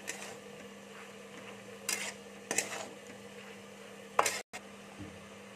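Utensil scraping and clinking in a pan while pumpkin greens are stirred with mustard and cumin paste, a few sharp metallic knocks over a quiet background hum.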